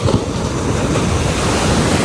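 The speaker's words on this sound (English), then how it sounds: "I'm about to enjoy some of these waves." Ocean surf breaks on the shore in a loud, continuous wash with strong wind buffeting the microphone and no voices.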